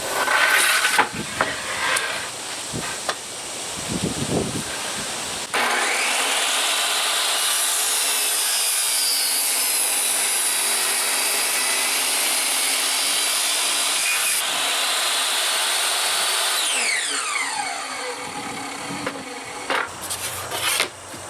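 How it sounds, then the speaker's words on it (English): A power saw makes taper and rip cuts through a wooden board for an outdoor chair armrest, a long steady whining cut with a rising and falling tone, preceded and followed by shorter handling noises and knocks. "So I have the taper cut, I have the rip cut."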